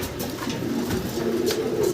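Racing pigeons of the blue bar type coo repeatedly close by, soft rolling low calls that rise and fall in a steady run of several coos.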